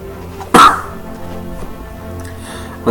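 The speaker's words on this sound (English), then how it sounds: "I'm sorry about the coughing" A single sharp cough from a sick speaker bursts out near the microphone, followed by quiet background sound and a second short cough at the end.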